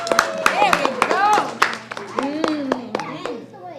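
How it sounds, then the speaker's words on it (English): A children's audience at a summer reading storymobile event claps in scattered, uneven bursts, with sharp individual hand claps standing out while an adult and children talk and call out over it. "Give a round of applause."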